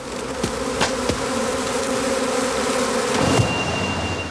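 Bees buzz around a hive at the end of August, a dense, steady drone of many insects close by, with occasional louder passes of individual bees.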